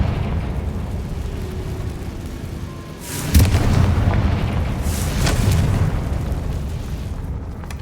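A Confringo spell explosion in the video game Hogwarts Legacy gives a sudden booming burst, followed by a second, smaller blast over a rumbling game background.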